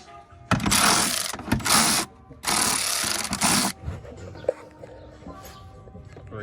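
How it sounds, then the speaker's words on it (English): A ratchet works on the transmission heat shield of a BMW E46 in two loud bursts of rapid clicking, close by, followed by quieter clanks of tools and handling in a garage. "Right now we're going to go ahead and pull the heat shield off like I said."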